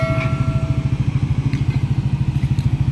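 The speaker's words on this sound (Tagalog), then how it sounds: "papatayin lang natin yung ating motor" A motorcycle engine idling nearby beside demolished houses, loud and steady, with an even low thudding pulse throughout and a faint high whine at the start.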